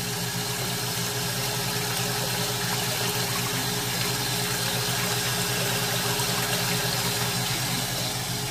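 A Vevor 115-volt well pump runs with its flow throttled back to about 4 or 5 gallons per minute, giving a steady close-up hum with rushing water that holds constant throughout, no talking.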